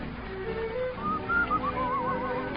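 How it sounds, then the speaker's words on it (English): A person whistles a gliding melodic tune over a soft musical backing in an old love song, the whistled line rising and wavering for a couple of seconds at moderate loudness. "I'm whistling"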